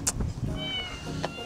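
A cat on a Japanese island in Fukuoka meows close by, a short single call over steady outdoor background noise.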